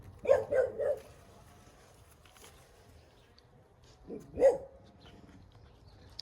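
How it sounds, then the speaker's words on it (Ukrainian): A dog barks outdoors on a summer day: a quick run of three sharp barks, then a pause with faint background sound, then one or two more barks, all moderately near and with no talking. "ти на кого гавкаєш?"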